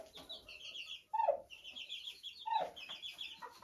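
Hens cluck in their enclosure with soft repeated calls and two sharper, louder squawks, close by, with no talking.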